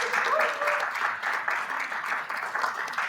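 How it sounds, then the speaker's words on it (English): A conference audience keeps up steady, dense applause as a team of speakers walks up to the stage, the clapping even and sustained throughout with no clear talk over it. "Clap them all the way up to the stage."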